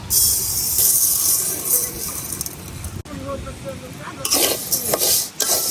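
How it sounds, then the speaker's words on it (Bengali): Mung dal is dry-roasted in a pan and stirred, the lentils rattling and scraping against the metal in loud, close bursts. A spoon clinks now and then, and a voice speaks briefly partway through. "এখন আমি মুগের ডালগুলারে একটু ভালো করে বাইজে নিয়াম।"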